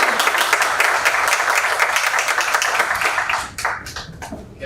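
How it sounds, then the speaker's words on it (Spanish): Sustained audience applause at a business conference, dense and loud throughout, thinning and fading toward the end. "Fuerte el aplauso entonces para Jacobo"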